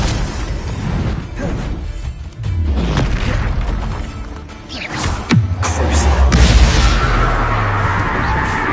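Confringo blasting spells exploding in Hogwarts Legacy, several heavy booms with descending whooshes and crashing debris, loud and close amid dense game effects.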